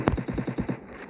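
Rapid automatic gunfire in the shooter game Free Fire, a quick burst of about seven evenly spaced shots over roughly a second, fairly loud and close.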